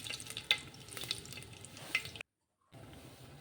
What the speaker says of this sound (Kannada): ಸ್ವಲ್ಪ ಗೋಡಂಬಿ ಹಾಕಿ ಚೆನ್ನಾಗಿ ಫ್ರೈ ಆಗಲಿ.